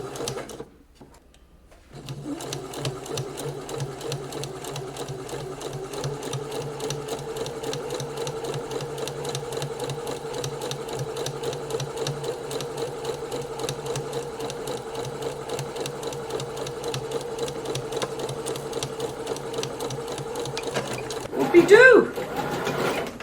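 A sewing machine runs steadily for about twenty seconds, stitching a seam around a puff sleeve, with a constant close whirring hum and needle chatter, stopping near the end with a short squeak.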